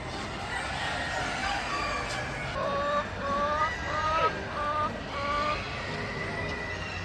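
Chickens clucking and calling at the Sydney Royal Easter Show 2024, a run of short, mid-distance squawks and crows over a busy crowd murmur with people talking nearby.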